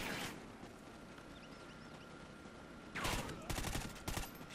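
Suppressed gunfire in the Call of Duty Ghosts campaign, heard as a quick cluster of muffled, clipped shots near the end after a stretch of low background ambience.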